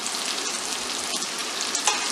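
Raw mango pickle mixture with garlic and green chillies is stirred in a pan, giving a steady, close, hissy scraping texture that runs unbroken with no voices.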